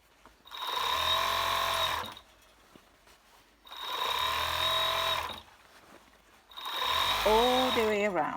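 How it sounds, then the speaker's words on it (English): A domestic overlocker sergeing the raw edge of a dress runs in three loud, steady bursts of about two seconds each, separated by short quiet pauses, with a bright whirring buzz and a rhythmic mechanical hum. "So you now overlock."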